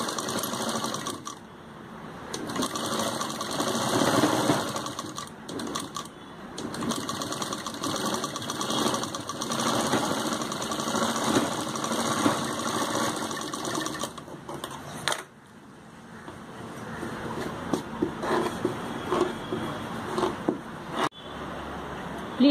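A sewing machine runs long, steady stitching passes on an umbrella kameez, close and loud, with one short break midway before it resumes; someone speaks softly at times.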